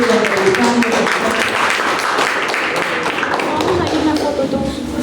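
Applause at a meeting of writers from Huancavelica, a dense, loud and steady clapping that lasts the whole stretch, with voices faintly mixed in.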